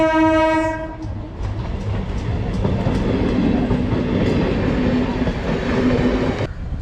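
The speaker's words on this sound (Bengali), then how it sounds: "দুটো ট্রেন দুদিকে চলে গেছে, তা সত্ত্বেও এখনও আমাদের ছাড়েনি।" A train rolling past a railway level crossing where traffic waits, opening with a long horn blast, then a loud, close, continuous rumble and clatter of wagons that cuts off abruptly near the end.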